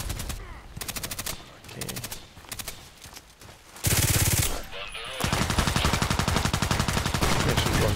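Rapid automatic gunfire from the online shooter Contract Wars, loud bursts of shots in quick rhythmic volleys, with a heavier sustained barrage in the second half and brief quieter gaps between.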